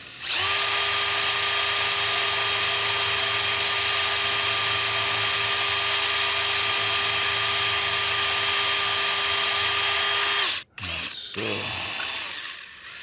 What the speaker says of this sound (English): This is a snub-nosed bit, so as it spins, it needs to kind of kiss the bottom until it forms its own little hole.